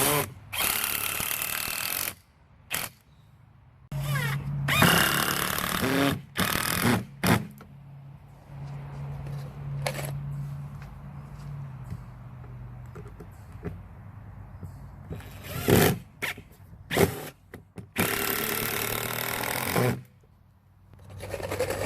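Cordless drill driving regular 2.5 inch screws into scrap 2x4 boards for a bench, several loud whirring bursts of a few seconds each, separated by brief pauses, close and without talk.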